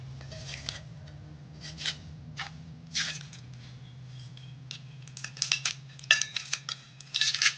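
Sublimation paper peeled and unwrapped from a freshly pressed kids' tumbler, with scattered crinkling and papery rustles that grow busier toward the end, close up over a low steady hum, no talk.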